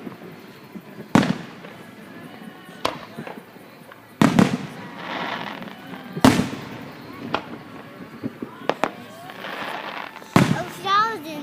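Fireworks burst at a park display, with several sharp booms and crackling fizzles spread across the recording, loud bangs over the murmur of a crowd and nearby voices of people talking.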